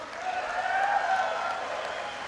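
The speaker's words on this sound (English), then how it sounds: "How about a hand back there for Mr. Dave King on the drums" An audience applauds drummer Dave King at the 2023 Kitchener Ontario blues festival. The crowd's clapping is steady and sustained, moderately loud, and fills the whole stretch.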